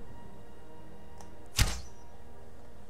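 A single arrow loosed from a bow in Skyrim lands with one short, sharp thunk partway through, surrounded by near silence.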